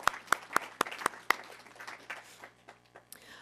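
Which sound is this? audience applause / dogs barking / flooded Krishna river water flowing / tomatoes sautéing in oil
audience applause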